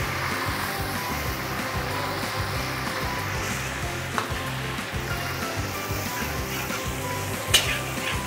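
Onions sizzle and fry in a pan for boti gojju, a continuous crackling hiss with occasional stirring scrapes and a few sharper clicks.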